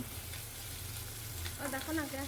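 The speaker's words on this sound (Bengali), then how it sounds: "এক চামচ আদা রসুন বাটা দিয়ে মশলার সাথে ভালো করে কষিয়ে নেব" Ginger-garlic paste frying with spices in a pan, a faint steady sizzle and light stirring, with a voice talking over the last part.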